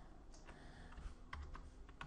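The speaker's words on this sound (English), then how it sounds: "I'm going to grab my marquee tool by pressing M on the keyboard." A few quiet, separate clicks come from keys pressed on a computer keyboard, spaced irregularly over a low room hum, with no talking.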